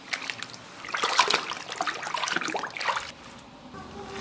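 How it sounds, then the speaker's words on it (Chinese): Boiled pork lungs rinsed under running water in a home kitchen, with a steady trickle and splashing that swells and shifts for a few seconds, then quiets. "捞出来再洗一下，"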